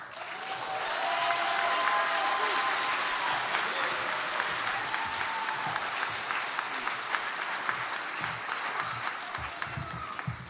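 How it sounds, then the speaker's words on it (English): Sustained applause from a large crowd at a Martin Luther King Jr. Day celebration, a dense steady patter that swells early and slowly tapers toward the end. "Let's give another round of applause for everybody that's here."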